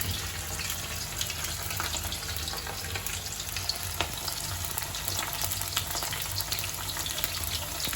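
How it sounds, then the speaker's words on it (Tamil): Steady, dense sizzling of okra frying in hot oil, continuous and close, with faint crackles throughout and no voices. "நல்லா எண்ணெய் சூடான பிறகு எண்ணெயில் இப்படி பொரித்து எடுக்கணும்."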